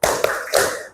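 Classroom clapping chant in which hands strike together in a quick pattern of three crisp claps at close range over about a second, with no talking.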